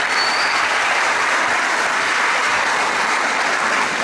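Dense, loud audience applause that holds evenly for a few seconds as a continuous wash of clapping.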